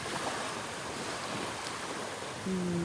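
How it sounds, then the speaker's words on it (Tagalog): Strong wind roars steadily against the microphone alongside the broad wash of surf at a beach in Pangasinan, Philippines, with a brief tonal hum appearing near the end. "Lamig. Lakas ng hangin."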